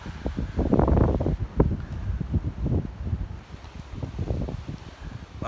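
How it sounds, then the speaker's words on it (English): Strong warm wind blowing from the south buffets outdoors, gusting in uneven rushes that swell and fade, with rumbling wind noise hitting the microphone close up and no talk. "the wind is crazy coming from the south."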